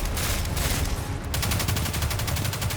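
Gunfire in Destiny 2 during a beta boss strike: a rapid stream of game shots, with a steady fast rattle of repeated blasts that grows more distinct in the second half.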